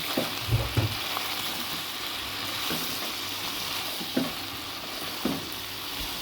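Salt, crushed chili, red chili and turmeric fry in a pan for achari chicken, giving a steady, close sizzle broken by occasional clinks and scrapes of stirring.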